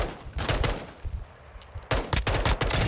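Gunfire in Call of Duty Warzone 2.0 DMZ: loud rapid bursts of automatic shots, an opening volley, a brief lull with scattered pops, then another dense cluster of close, punchy shots.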